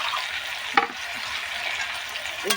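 Chopped tomatoes tipped into mutton frying in a pot and stirred, with a steady close sizzle, a sharp clatter of the spoon near the start and another scrape at the end.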